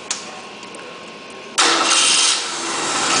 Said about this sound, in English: Now we're going to go ahead and start the engine.